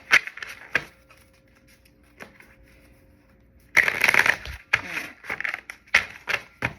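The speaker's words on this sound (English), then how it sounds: "I think I'm gonna do 2 more shuffles" A deck of oracle cards gets riffled and shuffled, with a few quick crisp flutters, a quiet pause, then a longer rapid run of papery snapping close by.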